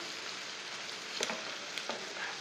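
Whole spices and red chilli powder, turmeric and coriander seeds sizzle in hot oil in a pan while bhindi cooks, giving a steady soft hiss with a few light clicks and stirring scrapes. No one speaks.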